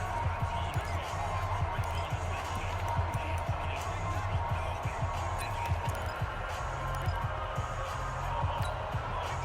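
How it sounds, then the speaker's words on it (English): A stadium crowd roars in an American football video game, a steady, dense wall of cheering and murmur that holds evenly throughout with faint thumping underneath. "the crowd getting into it as we come up on a big 3rd down"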